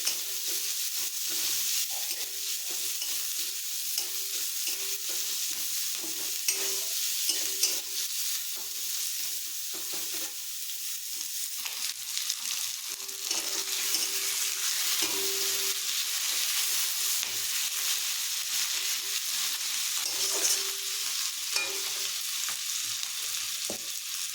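Salted fish frying in a pan while being stirred, with a steady, close sizzle that runs unbroken under repeated scraping and stirring strokes throughout.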